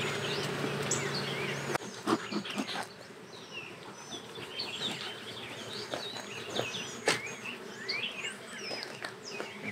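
Honeybees in a nucleus colony box make a steady close buzzing drone, broken by occasional knocks and handling thumps, with faint bird chirps in the background.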